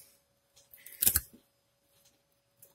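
A Y-Start LK5012 folding knife with a VG-10 blade slices through sisal rope, giving a short close rasping cut of about half a second, then a faint click near the end.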